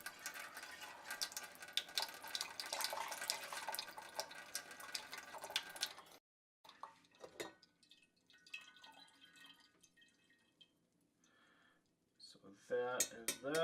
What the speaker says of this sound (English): There's more in here, so I'm going to rinse this out